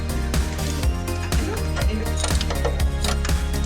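A small 3/8-inch ratchet wrench works a bolt on the front differential of a Ford Raptor/F150, giving a close, rapid series of rhythmic metallic clicks for a few seconds.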